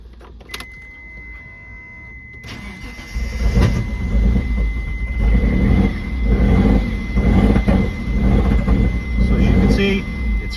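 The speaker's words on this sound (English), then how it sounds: "So as you can see, it starts, it runs, but it doesn't sound real good." A Mitsubishi 3000GT VR4 engine cranks and fires after a quiet moment, then runs at a rough, uneven idle with a low rumble, loud and close, while someone speaks.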